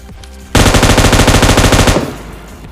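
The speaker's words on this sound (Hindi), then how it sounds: "अचानक उसने गोली चला दी" Rapid automatic gunfire in the mobile battle-royale game PUBG Mobile Lite during a last-zone fight, a loud sustained burst of shots lasting about a second and a half before cutting off into a fading echo, with no voices.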